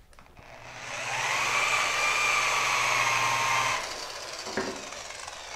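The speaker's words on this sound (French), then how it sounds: "On va y passer un petit coup de brosse." A blue medium-to-fine foam pad on a Farecla G360 polisher is brushed clean while spinning: a steady whirring drone for about three seconds that then cuts off, leaving faint handling noises.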